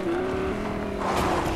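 A Lamborghini driven in Fortnite, its engine holding a steady tone that shifts into a brief squeal-like burst near the end, loud and continuous with no talk over it.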